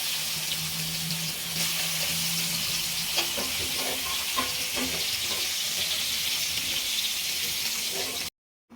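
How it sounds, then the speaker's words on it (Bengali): Katla fish sizzles in hot oil in a wok, giving a steady, loud broadband hiss with a few small pops and clinks that holds for about eight seconds, then stops abruptly. "এবার তেলটা গরম হয়েছে, মাছ দিয়ে দেব"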